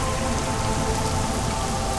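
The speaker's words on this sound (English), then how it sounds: "Nice, rain, I love rain." Steady rain pours in the video game Little Inferno, a dense, even hiss of drops on a surface that stays loud and unbroken throughout, with no voices.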